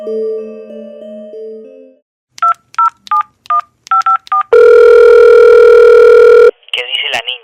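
A phone call being placed: a steady dial tone, then a run of seven crisp touch-tone keypad beeps, followed by a loud continuous ringback tone and a short warbling electronic chirp at the end, with no voices.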